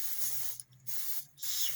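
Two short bursts of aerosol spray, a broad airy hiss separated by a brief pause, close and fairly loud with no talking.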